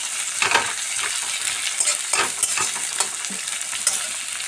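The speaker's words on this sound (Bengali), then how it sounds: "এবার আমি পেঁয়াজগুলোকে ভালো করে ভেজে নেব।" Onions fry in mustard oil in a wok, giving a steady, close sizzle and hiss, with intermittent scraping clicks as they are stirred; no one speaks.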